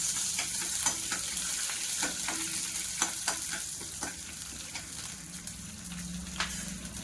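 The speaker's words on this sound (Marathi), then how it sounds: "आता मी त्याच्यामध्ये थोडीशी तीळ टाकते. मग छान परतून घेते." Sesame seeds sizzle as they are sautéed in a pan with cumin, a steady frying crackle broken by sharp spoon taps and stirring scrapes at irregular intervals, close and alone.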